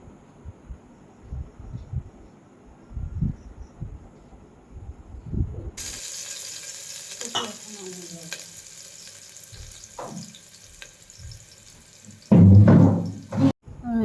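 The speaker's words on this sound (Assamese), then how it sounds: "মই পোলাওৰ কাৰণে ৰিফাইন তেল দি পেলাই অলপ তাত পিয়াজ বহাই দিছো পিয়াজখিনি ধুনিয়াকৈ অকমান ভাজি লম" Onions sizzling in refined oil for chicken pulao, a steady frying hiss that starts abruptly partway through, with occasional stirring scrapes and a loud burst of sizzle near the end.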